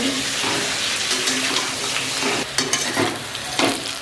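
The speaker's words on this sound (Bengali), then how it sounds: "আলুগুলো আমার ভাজা হয়ে গেছে" Steady hiss of food frying in a pan, with a few scraping stirs near the end and no voices.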